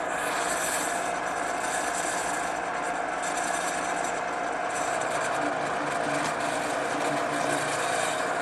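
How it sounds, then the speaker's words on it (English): A drill press bores through wood with a 1/4-inch brad point bit over a backing board, a steady close whirring motor drone with a rough grinding texture held throughout, no pauses or voices. "I'm ready to drill those over here on the drill press, where I've set up a 1/4-inch brad point bit"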